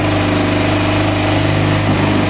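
Yamaha Bruin 250 ATV engine idling after a carburetor cleaning with cleared jets, a loud, close, steady rapid putter with an even rhythm throughout and no talk.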